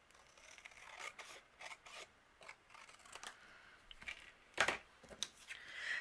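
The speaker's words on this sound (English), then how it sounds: "And then the excess that's overhanging, I'm going to trim off." Paper overhanging a handmade card frame being trimmed off, heard as soft, close snips and rustling cuts in short bursts, quiet overall with no talking.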